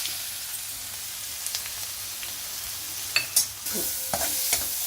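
Mustard seeds, asafoetida, a little turmeric and ground coconut paste sautéed in oil in a kadai, a soft sizzle with a few stirring scrapes and small pops, no talking.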